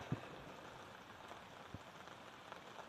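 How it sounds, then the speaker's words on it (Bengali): Rain falling steadily outdoors, a soft continuous patter with a few sharper drops, fairly faint and even throughout. "এখন দেখো বৃষ্টি পড়া শুরু হয়ে গিয়েছে"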